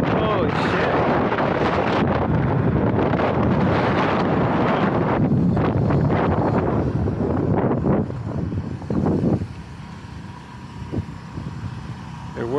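Heavy wind roar buffets the microphone while riding a Varla Eagle One electric scooter, loud and continuous before easing toward the end, with a rider talking over it.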